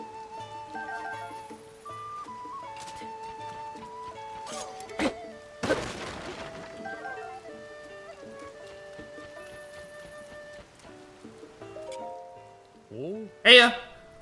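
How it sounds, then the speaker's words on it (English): Rain falls at East Akkala Stables in the video game The Legend of Zelda: Tears of the Kingdom, a soft, steady patter under in-game music tones, broken by a sharp crash and a later thud. "It started to rain."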